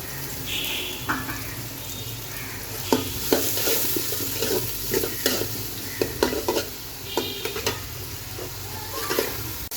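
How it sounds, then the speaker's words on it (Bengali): Chopped onions, in a large batch for vegetable fried rice, sizzle in hot oil while being stirred, a steady close frying hiss broken by repeated scrapes and clacks of the spatula against the pan. "গরম তেলে দিয়ে দিচ্ছি পেঁয়াজ কুচি"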